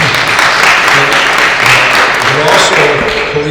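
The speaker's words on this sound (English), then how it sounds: "You can clap for teachers." An audience applauds teachers at a YWCA candidate forum, a steady wash of clapping from a crowd that fills the room with no break, loud and continuous.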